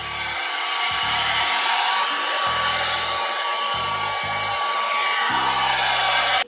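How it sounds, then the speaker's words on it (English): A blow dryer running continuously at close range while drying a patient's hair after shampooing, a loud steady whooshing hum with low thumps as the airflow shifts, no talk. "dry the patient's hair with a blow dryer"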